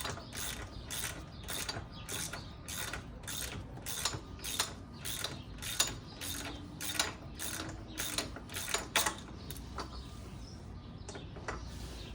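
A ratchet tightens a foot peg on aftermarket nerf bars fitted to a second-generation LTZ 400 ATV, giving a steady run of quick, crisp mechanical clicks in repeated bursts, fairly close and alone.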